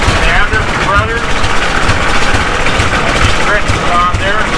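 An antique tractor engine runs steadily at a steam thresher reunion in Rollag, Minnesota, a loud, rough, continuous chugging rumble close by, with voices faintly in the background.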